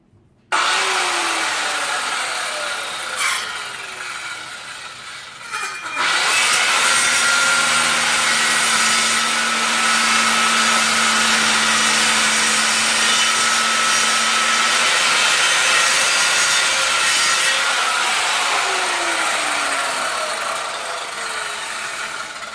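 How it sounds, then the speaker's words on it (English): Circular saw biting into a bottle brush bonsai trunk: a short opening burst, then a loud sustained whine and grinding cut through the wood lasting most of the stretch, close and without speech. "Don't bloody pussyfoot around with a bloody handsaw, just use your circular saw."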